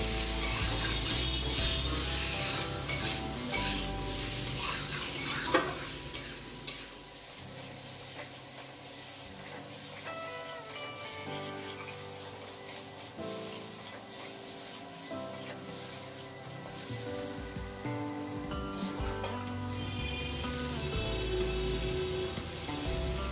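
Diced potato and papaya sauté in a hot pan with turmeric and salt, giving a steady close sizzle and crackle with occasional stirring scrapes and no talking.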